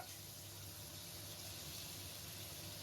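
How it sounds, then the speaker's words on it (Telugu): Marinated chicken frying in hot oil for chicken biryani, a steady hiss and bubbling crackle that holds evenly throughout, fairly faint and with no talking over it. "ఇప్పుడు మ్యారినేట్ చేసుకున్న చికెన్ ని వేసేసి ఫ్రై చేసుకుంటున్నాను."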